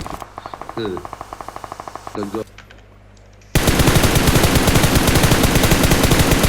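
Loud, rapid automatic gunfire from the battle royale game PUBG, first in bursts of steady shots, then a brief lull before an intense, continuous barrage fills the rest.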